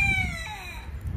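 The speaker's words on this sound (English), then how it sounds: "My rooster over there, he's having some fun crowing." A backyard rooster crows in a drawn-out call with a few gliding harmonic tones, heard at a moderate distance over low rumbling background noise, with no one talking.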